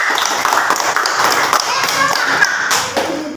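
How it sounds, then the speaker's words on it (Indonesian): Students clap their hands in an elementary school classroom during a religious education lesson, an irregular, uneven patter with some thumps and taps, fairly close, with voices mixed in. "Ya sudah, tepuk tangan"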